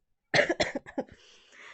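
A short fit of several close coughs in quick succession, trailing off into a breathy exhale.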